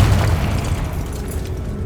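A Confringo fire-blast spell from Hogwarts Legacy on PS5 exploding with a deep, loud boom that rolls off into a rumbling tail over a couple of seconds, with no talk.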